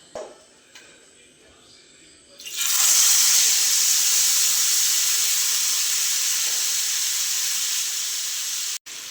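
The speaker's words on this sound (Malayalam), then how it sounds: "നമുക്ക് അതിനകത്തേക്ക് നമ്മുടെ മാരിനേറ്റ് ചെയ്ത് വെച്ച് ചിക്കൻ ഇട്ട് കൊടുക്കാം." Marinated chicken dropped into hot oil and ghee for Iffa chicken, setting off a loud, steady sizzle that jumps up after a quiet start and holds evenly to the end.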